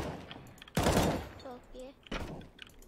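Gunfire in a video game: two sharp, loud shots or short bursts separated by about a second, with voices talking around them.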